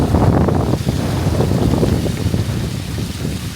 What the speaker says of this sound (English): Man, I don't remember these fountains ever being on.